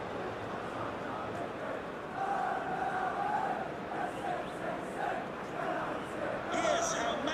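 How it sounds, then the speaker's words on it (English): A capacity stadium crowd in a football video game featuring Manchester City: a dense, continuous roar of fans with swelling chants, heard under steady match commentary throughout. "a capacity crowd here"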